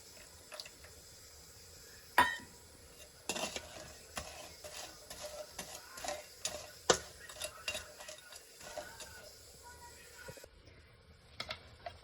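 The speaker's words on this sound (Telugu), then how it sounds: "లెమన్ జ్యూస్ వేసి బాగా కలుపుకున్నాను" A spoon stirs lemon juice into homemade chicken pickle, scraping and clinking in a series of irregular strokes against the pot, with a faint sizzle underneath and no talk.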